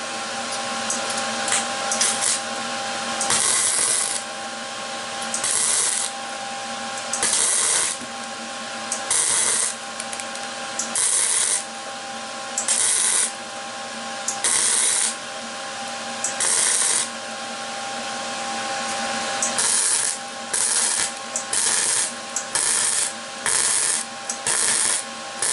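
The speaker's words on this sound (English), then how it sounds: "I think we're fully welded now." Welding on the corner of a broken metal dustpan, a harsh crackling buzz that starts and stops in repeated bursts of a second or two, loud and close with brief pauses between passes.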